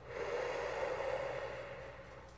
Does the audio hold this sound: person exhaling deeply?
yes